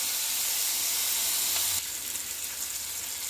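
Bacon and cabbage fry in a pan with a loud, steady, close hiss and crackle that keeps going throughout, dipping slightly partway through, with no talking.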